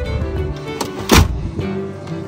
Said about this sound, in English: This one is going to have automatic lift gates.